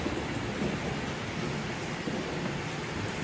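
Steady rain hisses as a dense, continuous wash, with a low rolling rumble of thunder blended underneath throughout.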